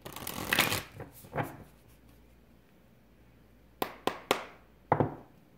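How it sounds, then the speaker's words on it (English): Tarot cards being shuffled in the hand, a burst of riffling and fluttering at the start, a couple of softer passes, then several sharp separate card snaps and taps near the end, close and fairly quiet with no talking. "Let's give that a shuffle."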